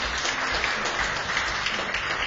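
Guests at an opening ceremony for a citizens' college content-creator course give loud, continuous applause, a dense wash of many hands clapping with no pause.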